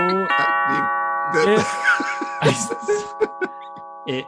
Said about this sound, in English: our doorbells had an absolute hammering this evening